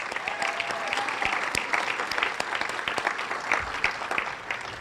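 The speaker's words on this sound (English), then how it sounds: "And there's a really, really big applause that goes out to our students." Audience applause at the Willow Hall ribbon cutting and dedication in Stockton, a dense, sustained clapping from a sizable crowd that keeps an even level throughout.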